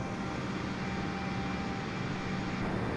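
An Airbus A320 takes off from runway 25 right at Los Angeles in Flight Simulator 2020, with a dense, continuous engine roar holding steady and loud throughout.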